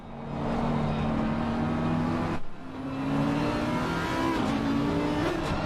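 An Audi GT3 race car in a Spa racing video game drones loudly at high revs, its engine note dipping briefly as it brakes hard and then climbing again, with a thin tire squeal riding over the engine.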